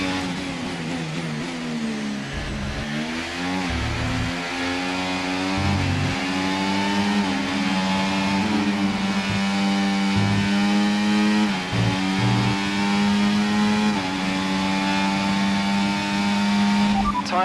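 An F1 car engine in the F1 24 game screams loudly down the back straight, climbing in pitch through repeated gear shifts with brief dips between, sustained and close throughout.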